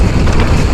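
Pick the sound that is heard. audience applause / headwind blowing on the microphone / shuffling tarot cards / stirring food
headwind blowing on the microphone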